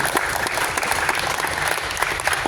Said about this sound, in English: you join in and clap to salute everybody